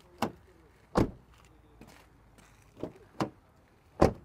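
Car doors on a 2016 VW Passat Highline 1.6 TDI, passenger side, open and shut in a series of five sharp, close thuds and clunks with short gaps between them, no talking.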